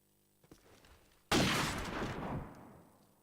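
Wallbang gunfire in Call of Duty 4: a couple of faint ticks, then one sudden loud burst of shots that rings out and slowly decays.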